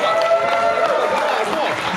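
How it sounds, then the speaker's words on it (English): Audience at a free military comedy show at a VA hospital in Lyons clapping and cheering as the host is introduced, a steady crowd wash under a loud announcer's voice. "Y'all start clapping."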